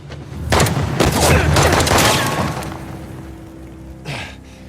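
A loud burst of rapid gunfire in a shootout in Uncharted: The Lost Legacy, crackling over about two seconds and then fading, with one shorter shot near the end.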